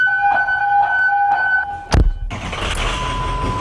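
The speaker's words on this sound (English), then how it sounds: "When the emergency siren sounds at the Painesville Fire Department, the firefighter paramedics go running to help." A Painesville Fire Department emergency siren wails steadily in two tones, then cuts off after a sharp bang, leaving a broad rushing noise like a passing vehicle.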